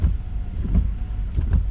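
Strong gusting wind during a thunderstorm in Joliette, buffeting the microphone in low rumbling surges with a few sharper peaks, loud and close with no talk.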